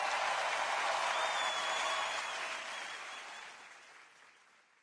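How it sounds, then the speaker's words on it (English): Audience applause at an online talk on scaling community operations, a dense, steady wash of many hands clapping that gradually fades out over a few seconds. "Let's give her a huge round of applause"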